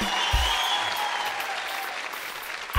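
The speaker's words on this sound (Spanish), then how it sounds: "¡Aplauso para el maniquí!" Studio audience applause on the Caracol TV program The Susos Show: dense, steady clapping fills the whole clip, with a few brief shouts rising over it.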